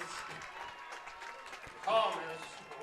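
A high school football crowd at a Saltsburg Trojans home game against Penns Manor cheers and applauds after a touchdown, a distant, diffuse roar that swells briefly under an announcer's ongoing commentary.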